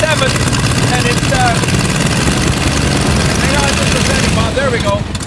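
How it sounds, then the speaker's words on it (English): A 1937 Stearman biplane's Continental engine runs at an airshow, a steady, loud droning roar with a propeller throb, with people talking over it throughout. "And that's the Continental engine."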